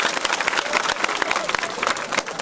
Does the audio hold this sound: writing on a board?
no